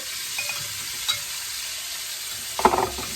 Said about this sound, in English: we're going to give that a stir